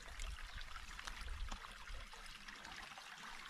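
A small woodland creek trickles and babbles quietly and continuously, faint and fairly close, with no voices over it.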